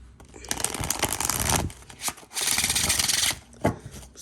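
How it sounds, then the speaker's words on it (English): Oracle cards riffle and rub together in two long shuffling bursts, close and crisp, with a short pause between them and a brief tap near the end. "Let me give them a good shuffle."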